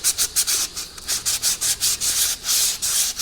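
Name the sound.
sanding corrosion off brake caliper with 600 grit sandpaper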